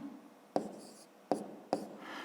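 Pen strokes on paper while writing out a maths exercise by hand: three short, sharp scratching marks close by, each followed by a brief soft scrape, in a quiet room.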